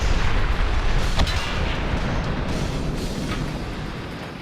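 Tank gunfire in World of Tanks during a T-54 battle: a loud booming blast with a long rumbling decay that fades gradually, followed by a fainter crack.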